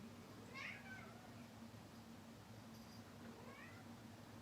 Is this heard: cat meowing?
yes